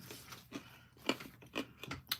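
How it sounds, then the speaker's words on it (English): Someone chews a mint in short crunchy bursts, about five distinct crunches spaced irregularly, close to the microphone with no talking. "sorry, I'm chewing my mint up."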